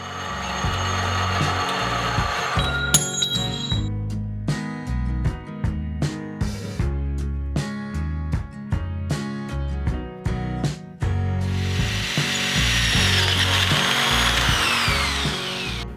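A power drill boring holes through metal brackets on an offroad shifter buggy build, in repeated short whirring bursts with stops between, ending in a longer high grinding whine, close and loud, with no talking.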